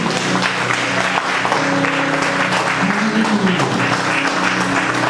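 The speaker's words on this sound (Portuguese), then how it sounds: "Você pode dar um aplauso bem forte ao Senhor." Church congregation claps loudly and continuously, a dense burst of applause filling the room, with a voice and musical tones faintly underneath.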